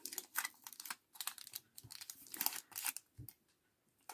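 Aluminium foil crinkles and crackles in repeated bursts as fabric applique pieces are pressed and shaped against it by hand, close and fairly loud, with short pauses in between.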